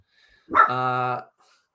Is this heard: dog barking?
yes